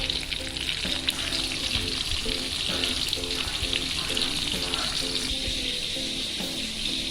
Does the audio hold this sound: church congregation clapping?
no